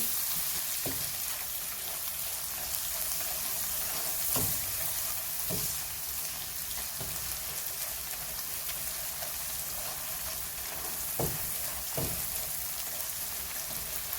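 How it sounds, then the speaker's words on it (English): Fresh chillies being stirred into a frying egg curry (dim bhuna), with a steady close sizzle of the pan throughout and several sharp clicks of the spoon against the pan, no voices. "And along with those, I'm going to add in 4 fresh chillies, and again, that's to your liking, as many or none if you prefer. Mix that in."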